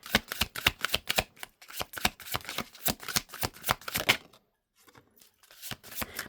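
Tarot cards being shuffled at close range, a quick run of crisp riffling flutters followed by a brief pause and a few more scattered card snaps.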